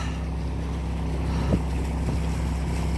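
A steady low engine drone from a sailboat motoring under engine in light wind off the Isle of Unst, Shetland, with wind rushing over the microphone and faint water noise.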